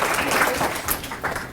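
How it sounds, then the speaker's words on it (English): A crowd applauds at a fifth-grade student council leadership summit, a short burst of dense, fairly loud clapping with no one speaking. "Let's have a nice round of applause for our student leaders."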